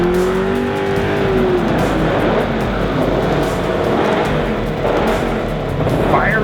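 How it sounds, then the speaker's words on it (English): Drag race cars firing up in a burnout box before the callouts at a street racing event, engines roaring loudly and continuously nearby with rough revving and a short rising whine, no talk over it. "Firing them up here in the burnout box for the callouts."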